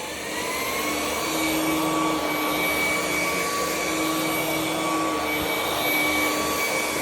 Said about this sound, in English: it does have like that high-end squeal, sort of like an ear-piercing squeal, but not bad. It's just the brushless motor.